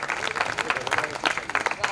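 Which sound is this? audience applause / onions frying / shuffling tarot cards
audience applause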